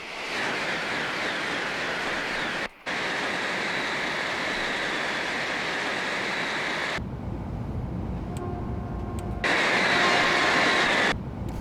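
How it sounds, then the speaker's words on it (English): High-speed train in the Train Simulator 2022 game on the Tohoku line, a loud rushing roar of a passing train that cuts out abruptly midway, then a brief lower rumble and a final burst of noise. "you hear the horn and the train's gone"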